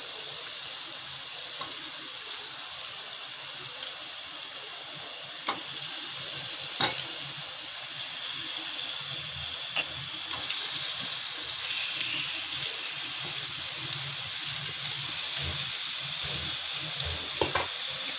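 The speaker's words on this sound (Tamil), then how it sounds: "இப்போ நான் மேரினேட் பண்ணி வச்சுருக்க சிக்கனை போடலாம்." Marinated chicken fries in hot oil for a Kerala-style chicken and pumpkin curry, giving a bright continuous hiss with occasional sharp pops and stirring clicks.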